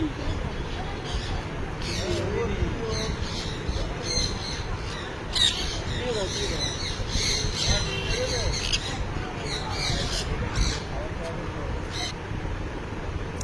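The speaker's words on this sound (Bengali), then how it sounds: "একটা পাখি এসে আমার মাথায় বসেছিল" Birds squawk and caw repeatedly in a busy outdoor setting at Safari World, Thailand, with calls scattered through steady crowd chatter and background noise.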